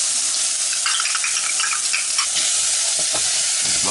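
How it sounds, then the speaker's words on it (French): Chopped parsley and garlic persillade sweating with shallot and onion in a frying pan, a steady close sizzle with light stirring scrapes throughout, no voices. "Je la fais juste suer un petit coup."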